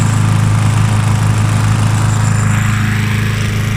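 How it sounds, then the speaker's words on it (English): A Mountfield M4 lawn mower engine drones loudly and steadily close by as the mower is pushed across a lawn, a continuous running hum with no talking over it. "more difficult pushing this mower with one hand because the handlebar's a bit wonky"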